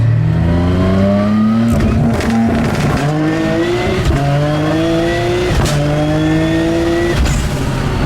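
Twin-turbo all-wheel-drive car revving hard close by, the engine note climbing and dropping through repeated rising pulls with sharp shifts between them, loud and alone.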